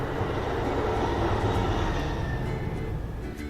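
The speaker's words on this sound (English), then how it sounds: "there's a train." A train passing nearby, a steady broad rumble with faint metallic squeals that holds throughout without voices.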